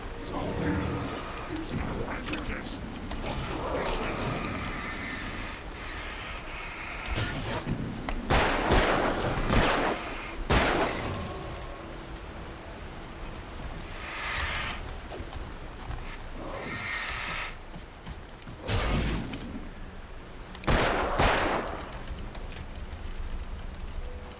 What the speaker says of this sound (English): Had to shoot one accidentally at the wrong thing, so I had to reload in the middle there